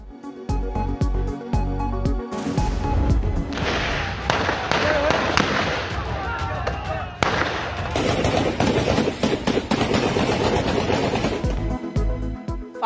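Celebratory gunfire at election celebrations, rapid bursts of shots crackling loud and continuous like firecrackers, with voices shouting amid the commotion.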